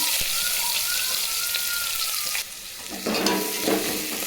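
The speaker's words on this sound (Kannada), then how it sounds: "ಈರುಳ್ಳಿ ಫ್ರೈ ಆಗಿದೆ" Onions frying in hot oil with mustard seeds in a pan give a close, steady broadband sizzle, dipping briefly and then swelling again with stirring toward the end.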